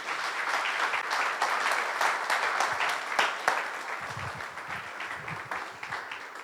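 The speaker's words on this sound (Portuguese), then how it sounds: "Você pode aplaudir o Senhor," Applause from a church congregation at a Portuguese-language evangelical seminar, dense steady clapping that fills the room, fairly loud and continuous with no voice on top.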